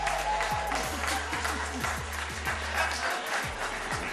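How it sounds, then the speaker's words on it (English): Applause from an audience at a school board recognition event for a school lunch week competition, steady and fairly loud for several seconds with some voices mixed in. "I think we need to give our mistress of ceremonies another round of applause."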